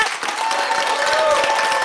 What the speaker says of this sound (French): Je vous demande d'applaudir chaleureusement les improvisatrices et les improvisateurs